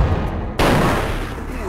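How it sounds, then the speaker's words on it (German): A sudden loud gunshot blast bursts in after a moment of low rumble, then decays into a lingering roar and echo, in the game Vampire: The Masquerade – Bloodlines. "Erstmal einen Schuss verschwendet."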